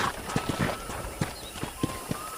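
Horse hooves clip-clop in Red Dead Redemption on PS3, with about eight evenly spaced soft thuds at walking pace, fairly close, over quiet game ambience.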